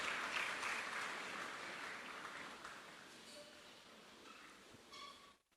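A church congregation applauding to acclaim the word of the Lord, a broad wash of clapping that is strongest at first and gradually fades, with a few brief tonal sounds near the end.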